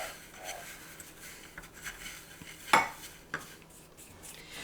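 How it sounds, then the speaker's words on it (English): Fingers mix seasoning into a beer batter coating for cheese curds in a bowl, giving soft rubbing and stirring with a few sharp clinks against the dish, close up and fairly quiet. "I'm just going to use my fingers and mix it all in"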